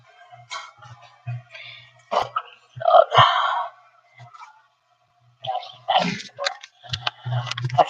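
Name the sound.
dog barking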